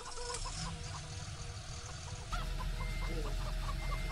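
Chickens in the video game Landwirtschafts-Simulator 13 cluck repeatedly in short bursts over a steady background hum, with a soft voice briefly underneath.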